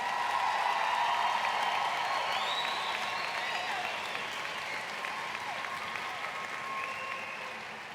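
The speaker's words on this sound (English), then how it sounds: "Could we give another big round of applause for our graduating class?" Sustained applause fills a high school graduation ceremony hall for the graduating class, a steady wash of many hands clapping at moderate distance with faint cheers and crowd voices mixed in.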